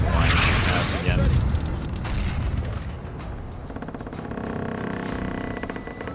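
Cannon broadside from ships in the Caribbean Legend video game, heavy booming blasts at the start with rumbling impacts, then fading into a steady mechanical hum and sea ambience.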